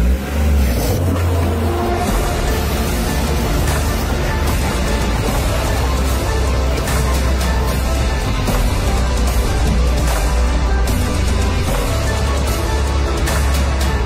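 Tata Punch petrol two-wheel-drive car crawling up a rough boulder road without low range, its engine droning loudly and continuously with rattling and crunching from the rocky surface, no talk.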